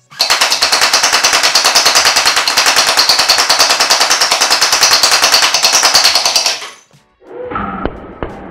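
A MrBeast Gel Fire Nerf blaster fires a long, loud, rapid burst of gel projectiles at paper, a dense rattling stream of pops for several seconds, then a brief pause and scattered impacts.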